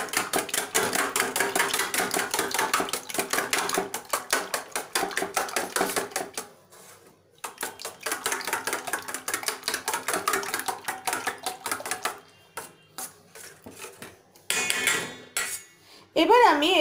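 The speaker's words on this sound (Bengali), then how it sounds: "চারটে ডিম আমি ফাটিয়ে নিয়ে নিয়েছি এবার এটাকে একটু আগে আমি বিট করে নেব ভালোভাবে বিটটা করে নেব আগে" Four cracked eggs are beaten in a bowl, the utensil clinking against the bowl in fast, steady rhythmic strokes, close and fairly loud, with a few brief pauses before the beating resumes.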